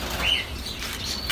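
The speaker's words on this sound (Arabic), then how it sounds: "كاين شي طويرات هنايا" Small birds flutter and flap their wings briefly at a shop selling animal supplies, a soft close rustle with a faint chirp.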